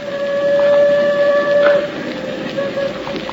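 A train approaching through a canyon sounds a loud, sustained tonal whistle that holds steady and then cuts off partway through, over a low rumbling rail background.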